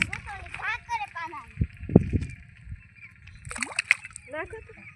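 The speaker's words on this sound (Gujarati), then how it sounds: "પાણીમાં છપછપિયા કરે" Playful splashing in water comes in short bursts and sloshes under the chatter of children's voices, close and lively.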